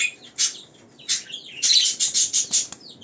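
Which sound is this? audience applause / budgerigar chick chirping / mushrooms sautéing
budgerigar chick chirping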